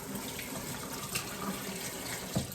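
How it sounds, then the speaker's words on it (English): Very hot water, around 180 degrees, runs from a tap into a sink for rinsing milking equipment, a steady close splashing stream with a couple of brief clunks. "And I just rinse it with hot water."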